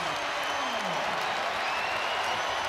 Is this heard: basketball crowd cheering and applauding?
yes